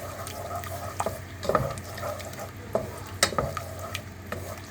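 Honey sauce bubbles and caramelizes in a pan while a spoon stirs it, giving a low sizzle broken by irregular scrapes and a few louder knocks against the pan.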